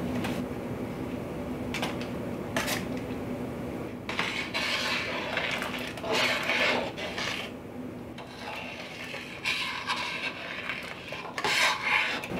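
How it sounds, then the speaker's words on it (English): A utensil mashes and stirs peach and plum jam in a pan, giving repeated close scraping and rubbing strokes against the metal with occasional clinks, irregular and continuous, with no talking. "keep mashing as you stir"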